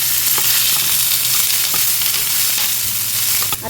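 Dry coconut and masala roasting in a little oil in a pan, giving a steady, close, dense sizzle with faint scattered crackles throughout and no voices.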